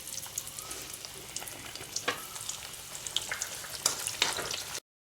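Cassava chips deep-frying in hot oil, a steady crackling sizzle with sharper pops scattered throughout, close and continuous until it cuts off just before the end.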